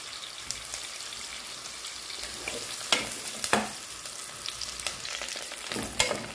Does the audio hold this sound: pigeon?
no